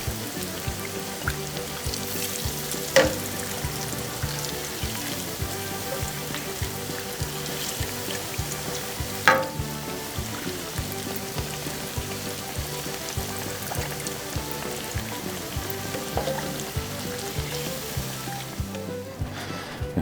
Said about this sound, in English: These are all fried up nice and crispy.